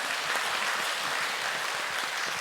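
Steady applause from a gathered audience at a peace blessing wedding ceremony, honoring the brides, grooms and four officiants; dense, even clapping fills the room throughout without pause.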